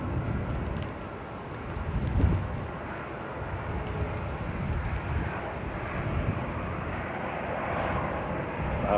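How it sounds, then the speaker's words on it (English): A propeller aircraft engine grumbles steadily at Manchester Airport, a low, continuous drone heard from a distance with some wind buffeting the microphone and no talking. "Our first noise prop of the stream. Grumbling away."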